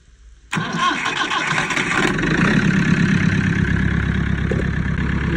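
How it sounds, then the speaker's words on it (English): A diesel-powered machine running on homemade diesel fuel coughs into life after a brief crank, then settles into a loud, steady, rumbling run close by, with no talk. "So I got to get my other machine here started up."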